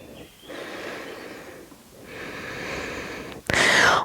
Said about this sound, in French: On respire. On va y rester 3 respirations profondes.